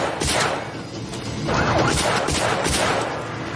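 Gunfire rings out in an action film as a police captain fires his pistol, a fast string of loud cracks and bangs with echo over a dense movie soundtrack.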